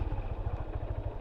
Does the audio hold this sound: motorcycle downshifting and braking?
yes